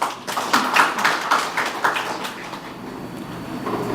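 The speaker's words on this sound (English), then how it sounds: "Let's give a round of applause." Audience applause at the grand opening of a NICSE centre at City Tower in Nagaland, a burst of many hands clapping through a room, fairly close and steady before tapering off.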